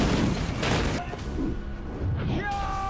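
A heavy explosive boom and crash from an RPG shot hitting a monster in the film Monster Hunter, dense and loud, followed by rumbling debris and a rising whine, with voices mixed underneath.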